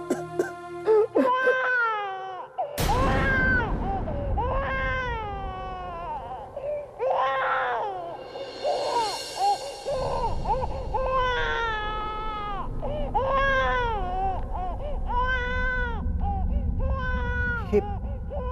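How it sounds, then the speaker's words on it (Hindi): A baby cries loudly and continuously, with rising and falling wails and short sobbing breaths, close by, in a scene from a Hindi horror drama. "बच्चे की रोने की आवाज।"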